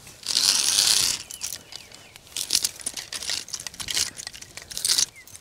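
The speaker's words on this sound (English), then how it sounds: "At the moment, I'm trying to spool the chain through, and I'm finding that you can sort of pull for a little while and it snags." Chain being spooled through the block and tackle of a Strainex fence wire strainer, a ratcheting, clinking mechanical rattle that pulls in bursts and snags, close and moderately loud, with no talking.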